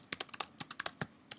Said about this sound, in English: going to the search box and typing French culture